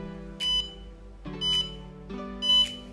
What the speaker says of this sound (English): short beep is heard.